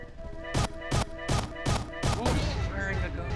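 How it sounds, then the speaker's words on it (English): Gunfire in the multiplayer video game The Ship: several sharp, loud shots in a quick irregular burst, followed by rattling game noise. "Who's firing a gun?"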